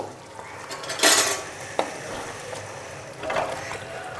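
Metal spoon scraping and clinking against a pan while kohlrabi curry seasoned with kitchen king masala is served out, with a few sharp clanks early on and softer scrapes later, close and clear with no talking.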